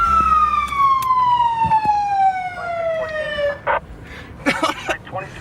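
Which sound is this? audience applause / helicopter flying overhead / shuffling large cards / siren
siren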